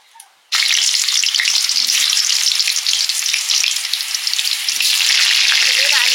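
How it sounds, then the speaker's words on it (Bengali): Potatoes for a pumpkin and pomfret fish curry sizzle loudly in hot oil. The steady, dense frying starts abruptly after a brief quiet moment and continues without a break, close and strong. "ঝোলের আলুগুলো ভেজে নিচ্ছি"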